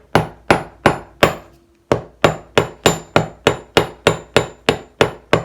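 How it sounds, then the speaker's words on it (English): Hammer blows flattening one end of a small metal needle blank on an anvil for a medieval-style needle, fifteen sharp ringing strikes in a steady rhythm with one brief pause, loud and close with no talking. "on our anvil, is flatten out one end"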